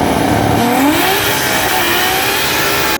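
A Chevrolet Trailblazer's inline-six engine revs hard and climbs in pitch, a loud, continuous high-revving drone with no talking.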